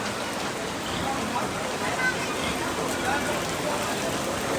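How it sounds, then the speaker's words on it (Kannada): Rain falls steadily in Mumbai, a dense, even hiss of drops on surfaces that is moderately loud and continuous, with a voice faintly present beneath it. "ಮಳೆ ಚಾಲೂ ಮುಂಬೈದಾಗ ಮಳೆ ಹೊಡ್ಲಿ ಆತಂದ್ರೆ ಕಂಟಿನ್ಯೂ ಹೊಡ್ಯಕ್ಕೆ ಚಾಲೂ ಮಾಡ್ತೈತಿ"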